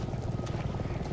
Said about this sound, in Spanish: Helicópteros.